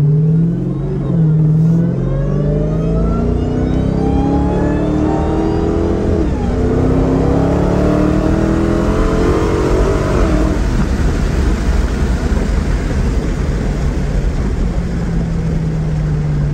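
A Dodge Challenger Hellcat on the road through Las Vegas, its engine sustained and loud, rising and falling in pitch as it revs and pulls through the gears, with no voices over it.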